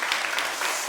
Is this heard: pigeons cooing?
no